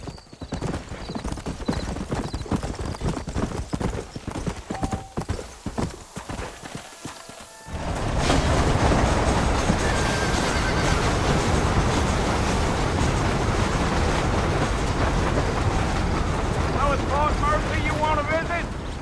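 Horses trot and gallop in Red Dead Redemption, first a sparse clip-clop of hooves with someone talking, then a loud dense rush of galloping hooves and rumbling movement; no clear neighing stands out.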